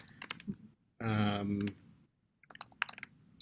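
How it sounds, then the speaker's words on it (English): Quick bursts of computer keyboard typing clatter at the start and end, with a short stretch of a voice speaking in between. "sorry about my typing."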